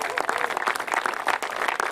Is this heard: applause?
yes